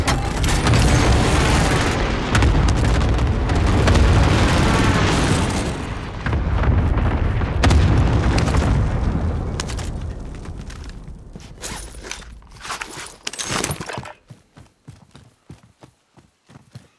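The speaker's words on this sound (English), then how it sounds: "Allied precision airstrike incoming." Airstrike explosions in Call of Duty Modern Warfare gameplay: a long, loud stretch of rumbling blasts and booms that gives way to scattered sharp pops and bursts as it thins out.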